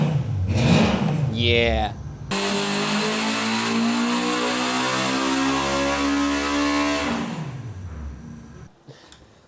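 A Honda K24 engine in a built car revs hard, its pitch climbing and holding in a loud, raspy sustained howl before dropping away; a brief voice and some engine blips come before the main rev.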